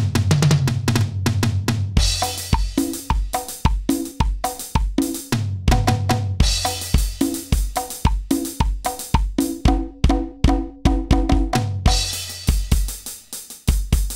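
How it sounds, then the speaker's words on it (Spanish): An Alesis electronic drum kit triggers Roland XPS-30 keyboard drum sounds over MIDI, giving loud, close, rhythmic hits: steady sharp strikes with booming low drum beats and bright cymbal-like accents, played without talk. "He configurado esta batería y estos son los sonidos."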